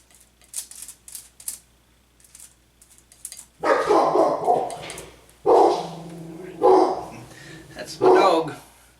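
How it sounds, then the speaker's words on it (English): A pet dog barks several times in short bursts, moderately loud and close, with a person speaking nearby during a landscape painting session. "That's my dog."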